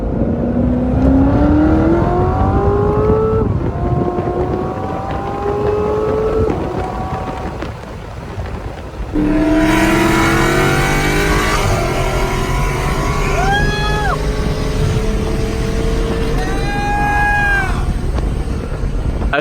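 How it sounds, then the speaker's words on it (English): A Corvette Z06 and a Dodge Challenger Scat Pack accelerate hard through in-gear pulls, the engine tone climbing steadily in pitch with shifts in between, loud and close, with whining notes rising over the roar. "with the Z06, I did do a second gear pull, and I'm going to include that video followed by the third gear pull from the Challenger right here"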